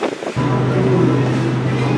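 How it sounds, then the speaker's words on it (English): Strong wind blowing outdoors, a steady loud rush with a low rumble buffeting the microphone, continuous after a brief quieter start. "Okay, it's so windy."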